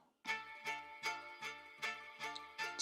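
A high-pass-filtered music sample with stereo width added loops a bright, punchy chord stab about every 0.4 seconds in an even, repeating rhythm with no voices.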